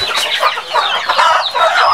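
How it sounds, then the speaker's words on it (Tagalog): Chickens cluck and squawk busily on a farm where birds are being caught for orders, a dense, close flock chattering continuously with no talk over it. "Nagawas itong manok."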